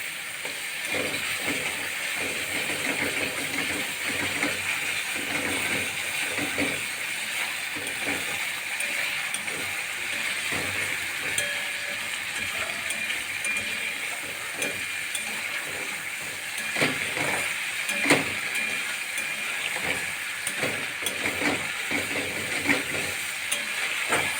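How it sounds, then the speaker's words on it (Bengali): A thick masala of mustard paste, onion paste, green chili paste and a little turmeric, with a slit green chili, sautéing in oil in a pan. It gives a steady close hiss and sizzle with scattered small pops and stirring scrapes, no voices. "মশলাটাতে দেখো ভালোভাবে কষানো হয়ে গেছে"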